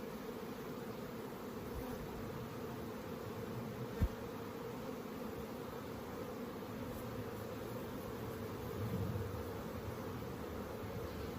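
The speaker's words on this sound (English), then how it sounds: "Another way to get the bees off the frame is by gently brushing them with a bee" Honeybees buzz around a hive frame during a honey harvest, a steady, dense hum throughout with one brief knock partway through and no voices.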